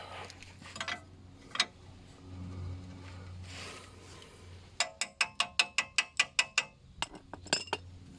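A spanner works a 13/16 bolt on a Land Rover Freelander 1 front wishbone, giving a close, quiet run of about a dozen rapid metallic clicks, with scattered clinks and shuffling before and after.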